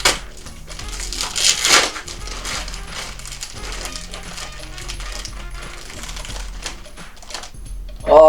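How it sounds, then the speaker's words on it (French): A parcel of used Fullmetal Alchemist Perfect Edition manga volumes is unwrapped, with dense crinkling and rustling of packaging and a louder tearing burst early on, all close by. "Je dois déballer ça."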